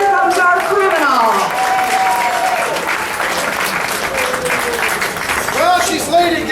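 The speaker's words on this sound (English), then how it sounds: "please make sure to give her a round of applause" A theater audience at an Alzheimer's benefit breaks into sustained applause, a dense wash of clapping that holds steady throughout with a few voices mixed in.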